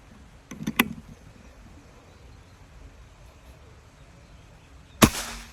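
An air rifle fires with a sharp snap, followed by quiet background; a few seconds later a second crisp report rings out, both shots loud and close against faint ambient noise at a long-range target session.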